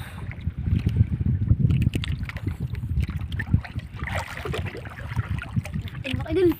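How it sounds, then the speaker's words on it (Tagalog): Small fishing boat rocking on slightly choppy sea over a reef, uneven splashes and water slaps against the hull with wind buffeting the microphone, someone talking throughout. "Yan, medyo maalon-alon konti mga idol."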